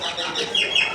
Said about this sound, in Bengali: পাখির ডাক তো ঢাকা শহরে শুনতে পাই না